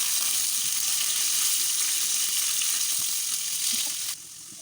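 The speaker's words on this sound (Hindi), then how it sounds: "इनको हम ऑयल में फ्राई करेंगे 2 से 3 मिनट के लिए" Chicken pieces frying in oil give a continuous, fairly loud crackling sizzle with no talk, easing slightly toward the end.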